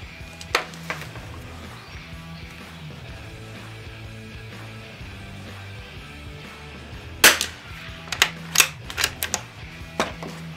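Rifle shots from a Christensen Arms Ranger carbon fibre rifle ring out at a range: one sharp report early, then a louder cluster of four or five quick cracks near the end, over a quiet outdoor background.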